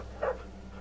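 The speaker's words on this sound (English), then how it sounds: "Oh, it's a dog!" A dog in The Walking Dead video game lets out one short, soft whimper, brief and moderately close over a low ambient hum.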